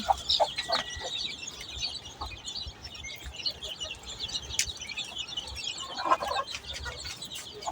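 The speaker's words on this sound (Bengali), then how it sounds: "ওইখানে আরেকটা মুরগি আছে বাচ্চাওয়ালা," Hens and chicks clucking and peeping as they eat, faint and somewhat distant, with scattered soft clucks and high chirps throughout.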